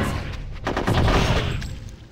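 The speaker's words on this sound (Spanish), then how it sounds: "Pero si te estoy disparando" Rapid gunfire bursts from the video game Conker's Bad Fur Day crackle loud and close in dense volleys, with a brief lull before firing resumes.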